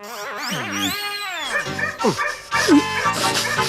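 A man imitates a barking police sniffer dog, giving a run of close, loud, yelping bow-wows and whimpery yips with bending pitch, in a comedy film scene.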